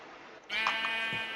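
A single sheep bleat from the Minecraft video game, a wavering, nasal call that starts after a brief quiet moment and carries on steadily for about a second.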